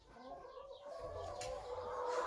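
Chickens on a small backyard chicken farm cluck and murmur nearby in short, rising calls over a low rustling background, growing slightly louder toward the end.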